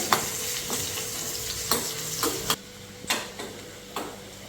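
Small onions frying in a pan for a Malayalam-style fish curry, a steady close sizzle broken by several sharp clacks of a spoon stirring against the pan, no voices.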